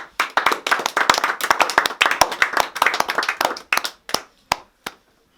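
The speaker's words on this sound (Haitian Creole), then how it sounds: "On nous applaudit." A small audience clapping at a gathering, brisk close handclaps in a steady burst that thins out into a few last scattered claps.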